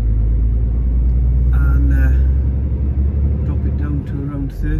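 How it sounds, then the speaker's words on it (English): A truck's engine retarder engages on a motorway in Portugal, a loud, steady low rumble and drone of the engine braking under the cab noise throughout, with a voice talking over it. "just a little bit on the retarder coming in"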